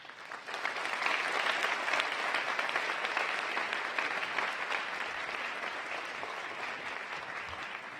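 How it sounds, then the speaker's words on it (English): An audience at a 2017 State of the City event for Mayor Sam Liccardo bursts into sustained, dense applause that holds steady for several seconds, filling the room with no voices over it. "Please give a round of applause for District 10 Faith in Action."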